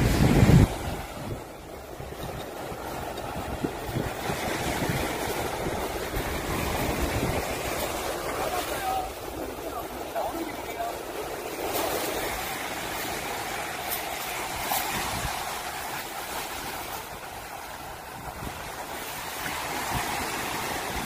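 Strong waves crash and roar steadily on Daejin Beach, Korea, during rough surf with a headwind. The wash is loud and continuous, with gusts of wind buffeting the microphone throughout.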